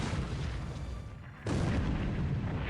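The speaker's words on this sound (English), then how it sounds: "Alright, torpedoes out." In the naval war game War in the Pacific, torpedoes launch with a heavy booming burst. Loud rumbling noise dips briefly, then a sharp, powerful boom returns and sustains, with no talking.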